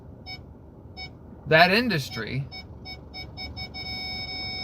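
A car's reversing parking sensor beeps in short, evenly spaced high pips behind someone speaking, continuing faintly and steadily after his voice stops.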